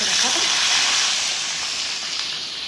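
Potato fries coated in cornflour and maida sizzle in hot oil, a loud, steady broadband hiss that holds evenly and fades slightly toward the end.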